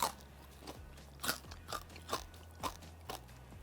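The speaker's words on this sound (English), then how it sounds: "So let's listen to that crunch." Crispy pork belly skin bitten and chewed close up, with about six sharp crunchy bites in an uneven rhythm, alone with no talking.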